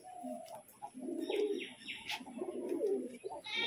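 Pigeons of the Giribaz and Lalkat Madras breeds coo in a soft, close, rolling series, with light chirps and a faint voice in the background.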